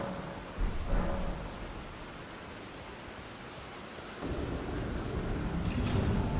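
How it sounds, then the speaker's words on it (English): Midday rain and rolling thunder in the video game Elden Ring: a heavy rumbling roll at the start fades into a steady downpour hiss, then a second deep swell of thunder builds and holds through the end. "Noon rain."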